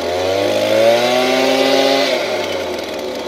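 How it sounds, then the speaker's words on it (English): A Ford F-150 Raptor truck engine revs loudly close by, its pitch climbing and then easing back down, with a rumbling exhaust throughout. "The exhaust note sounds on point."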